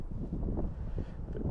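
Wind buffets the microphone outdoors at a fly-fishing spot, a steady low rumbling roar with gusty swells lasting throughout, loud and close, with no talking.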